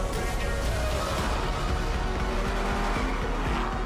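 Racing car engine with squealing tires from a driving video game, a steady loud drone with rising tonal whine that runs continuously, with faint talk underneath.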